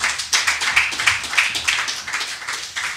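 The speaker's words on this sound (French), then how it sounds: "Ok, acclamons le Seigneur." A church congregation bursts into acclaiming applause for the Lord, dense rhythmic hand clapping from many people, steady and fairly loud throughout.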